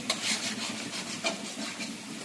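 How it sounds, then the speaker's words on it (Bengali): Vegetables and spices frying in a pan, stirred with a utensil, giving a faint rhythmic scraping and rubbing over a low sizzle. "আমি একটু নাড়া দিয়ে দিচ্ছি"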